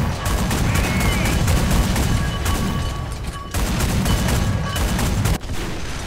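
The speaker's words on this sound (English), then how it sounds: "Right as I was dropping that artillery." Artillery strike and heavy gunfire in the tank combat game War Thunder: a dense, loud, continuous barrage of booming blasts and rapid shots with rumbling low end, with a sharp break near the middle and another near the end.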